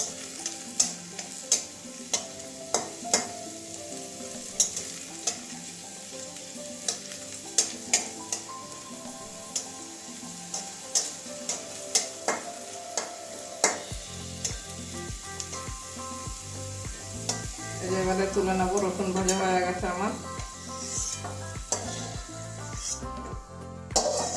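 Whole garlic cloves, fairly large, frying in oil in a pan until reddish, a steady close sizzle and crackle with faint clinks of stirring, getting louder and denser in the second half.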